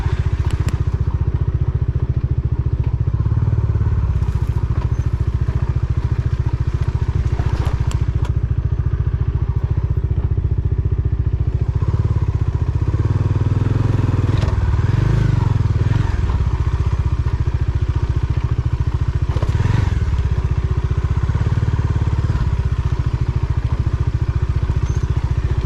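A Bajaj Dominar 400 motorcycle rides off-road over rounded boulders near Madhamakulam, Kuttikkanam in Idukki, its engine loud and close throughout, with bumps, clatter and surging throttle as it climbs.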